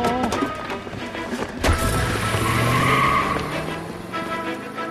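A car in the video game L.A. Noire skids with screeching tires over a running engine and a sharp thump partway through, fairly loud with no talk over it.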